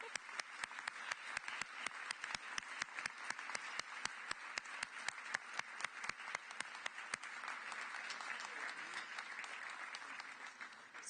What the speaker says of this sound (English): And you can keep on clapping,